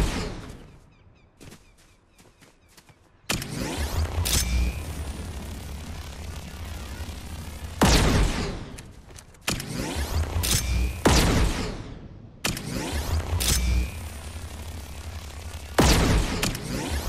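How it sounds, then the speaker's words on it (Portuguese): Gunfire rings out in a pirate video game, loud sharp shots and volleys bursting over a continuous droning engine-like background, with several separate blasts spaced across the scene. "E agora tá tomando tiro de outro lá"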